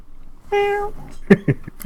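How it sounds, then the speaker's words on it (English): A single clear meow from a cat comes close and loud, then short bursts of speech follow right after it. "She meows at him to comfort."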